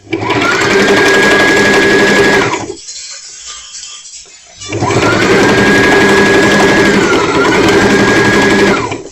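A sewing machine stitches a dart on a simple skirt in two loud, steady runs, a brief pause between them, with a whirring motor and rapid needle chatter up close.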